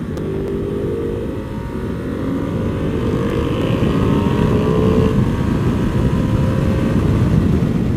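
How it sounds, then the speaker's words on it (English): A Ducati Monster 1200 motorcycle exhaust while riding, a loud continuous engine roar with shifting pitch and heavy wind rumble, building slightly louder as it goes. "It sounds incredible, dude. That's one of my favorite sounding exhausts of all time."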